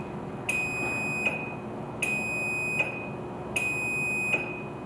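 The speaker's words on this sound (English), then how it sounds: "The opener beeps and lights flash slowly five times." Three loud, evenly spaced electronic beeps, each held under a second, from a LiftMaster Security+2.0 garage door opener during travel programming, against a faint background hum.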